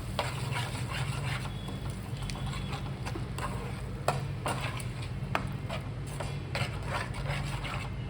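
Food is stirred in a pan on a stove over a low flame, with a steady close scraping and rubbing under a continuous soft sizzle, punctuated by occasional sharper knocks of the spoon.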